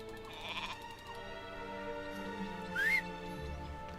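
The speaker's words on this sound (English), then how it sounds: "Ah, sheep. Lost sheep." Sheep bleat in the fantasy online game LOTRO, a couple of clear, wavering calls over a steady ambient game soundscape, nearby and moderately loud, with no talk.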